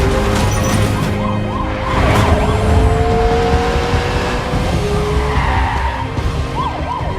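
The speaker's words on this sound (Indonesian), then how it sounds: "para polisi korup yang bekerja untuk Kwang mengejar mereka dan terjadilah aksi kebut-kebutan" Car chase from an action film with corrupt police in pursuit, tires skidding and engines roaring over a steady wash of noise, with a wailing siren weaving through, loud and continuous throughout.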